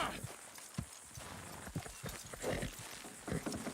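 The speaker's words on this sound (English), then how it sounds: "Good horses" Rhythmic horse hoof clops on a hard surface in the video game Red Dead Redemption 2, several uneven beats close by, with scattered noise and a faint voice in the background.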